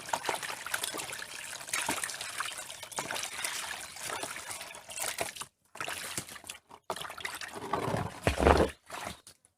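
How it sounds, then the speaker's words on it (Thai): Fish being washed by hand in water in a basin, with continuous trickling and splashing near the mic, broken by brief pauses and a louder slosh near the end. "ล้างทำความสะอาดก่อนค่ะ"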